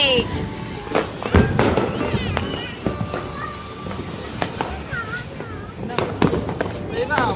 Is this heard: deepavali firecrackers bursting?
yes